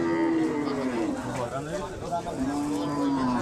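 Cattle at a crowded Eid ul-Adha livestock market at Hazratpur haat, with low mooing calls rising over steady crowd chatter and voices throughout.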